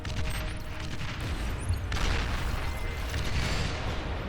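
Long-range artillery bots firing missiles in the strategy game Beyond All Reason, a dense continuous barrage of booming launches and impacts layered over a steady roar, with no clear gaps.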